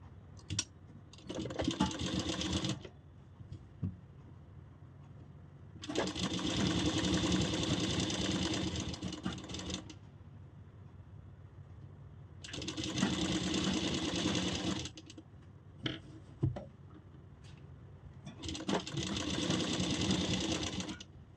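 An electric sewing machine stitches a seam on lined kurti fabric in four separate bursts of steady, close whirring, with quiet pauses between runs and no talking.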